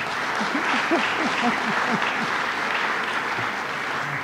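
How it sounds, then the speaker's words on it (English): A crowd applauds steadily, a dense wash of clapping with a few faint cheers and whoops mixed in. "Harry Bronson, let's give him a round of applause."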